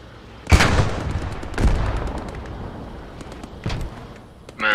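Booming explosions and gunfire in the World War II shooter Post Scriptum, three or four heavy blasts a second or so apart with rumbling decay, distant shots between them and a brief voice at the end.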